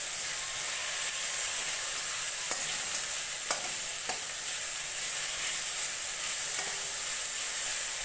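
Pointed gourd (potol) being fried and stirred in a pan with a little garlic, giving a steady, hissing sizzle with a few faint spatula scrapes, close and without voices.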